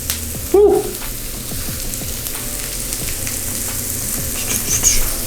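Aromatics stir-frying for a lamb stir fry sizzle loudly up close, with a sharp clatter of a utensil near the start and continuous crackling and stirring throughout.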